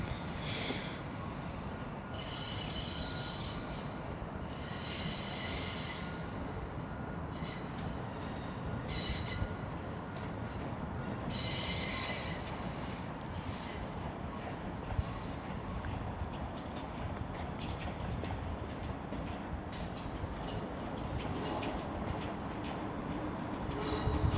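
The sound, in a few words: West Midlands Railway train arriving at Wolverhampton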